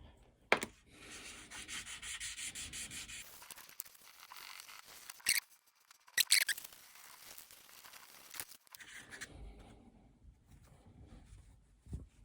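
Sandpaper at 2000 grit rubbing across a metal pinball arcade coin door, heard as quiet, uneven scratchy strokes in bursts with short pauses, close up and with no talking.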